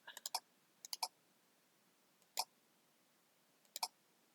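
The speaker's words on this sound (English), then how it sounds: "I'm using the delete key on the keyboard to delete that" Delete key tapped on a computer keyboard, a few quick sharp clicks in small clusters separated by pauses, close and quiet, with no talking.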